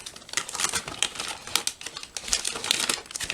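Foil-lined ration heater bag handled up close, giving a continuous busy crinkling and crackling with irregular sharp rustles throughout, no voices.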